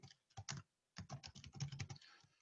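Java code being typed on a computer keyboard during a programming lesson: quick clusters of close, crisp key clicks with a short pause after the first few strokes, then a longer, denser run of typing.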